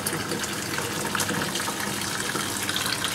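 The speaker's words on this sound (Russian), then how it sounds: "Добавляю сюда горячей воды." Steady splashing of hot water being poured into a pot of pork legs, a continuous gushing stream heard up close with no talking.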